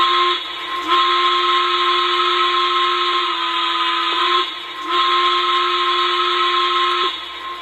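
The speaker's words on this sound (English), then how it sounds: "Okay, here's the whistle" A Lionel C&O 2-6-6-2 Mallet model steam locomotive sounds its steam whistle: a steady, loud, hissy multi-tone blast held for several seconds, broken by three short dips into separate toots.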